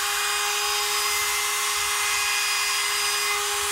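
A Dremel rotary tool running, a loud steady high-pitched whine and whir close to the microphone, with no speech.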